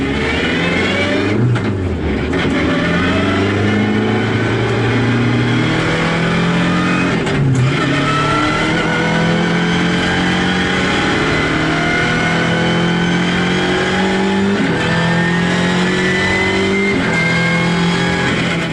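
Front-wheel drive MINI race car lapping a track, its engine loud and close throughout, rising and falling through repeated revs and gear changes, with no talk.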